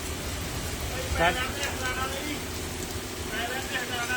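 Heavy rain pours down in Tapa Mandi, a steady, dense hiss of falling water that fills the whole stretch, with faint voices in the background.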